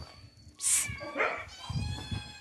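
A cat meows near a car on an outing to Samgori, with one sharp high cry followed by a second, lower drawn-out meow, while soft background noise and a voice murmur underneath.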